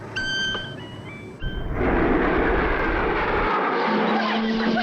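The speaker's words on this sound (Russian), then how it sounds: "Это гудение реактивных двигателей." Jet engines of a flying vehicle hum as a loud, steady broadband roar that swells up after a brief tonal passage and then holds, with a low whine emerging late.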